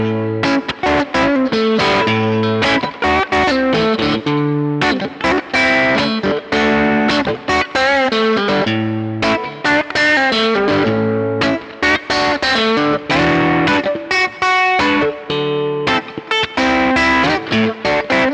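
Electric guitar played through a custom JD Stomps boost pedal into a brown-style amp, loud and distorted, with steady chugging chords and sustained notes ringing with short breaks between phrases.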